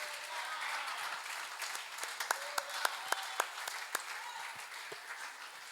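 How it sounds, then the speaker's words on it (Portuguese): Church audience applauding during a Christian teaching session: a steady wash of many hands clapping, with a few sharper, louder claps standing out midway before the applause thins toward the end. "Vamos aplaudir mais uma vez."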